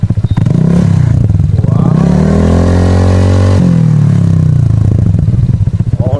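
Honda Click 125 scooter fitted with a Yoshimura R77 full-system exhaust and no silencer revs loudly and close up, its raw engine note rising and holding in a long pull before dropping back to a rough idle.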